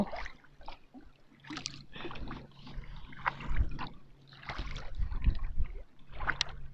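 Oars of a rowboat dip and pull through sea water off Finland's coast in slow, uneven strokes, with soft splashes and gurgles close by and quiet between strokes.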